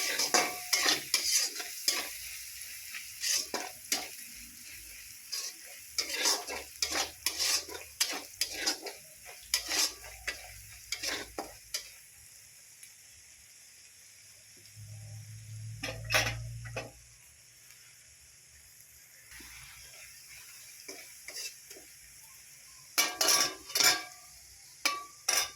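Rohu fish cooking with Kashmiri chili and a splash of water in a pan, stirred with a spoon: bursts of close metallic scraping and clinks separated by quieter stretches of soft sizzling, with no voices.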